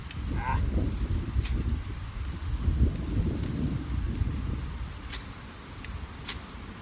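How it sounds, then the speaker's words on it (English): Strong wind blows outdoors, buffeting the microphone with a steady low rumble and gusty roar throughout, with brief faint clicks and a short high tone early on. "Man, it is super windy."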